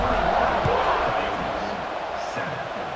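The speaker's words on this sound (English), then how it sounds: "this crowd is buzzing after that last score" Stadium crowd in EA Sports College Football 26 roars in a dense, steady wash of noise after a score, loud and unbroken with faint shouts inside it.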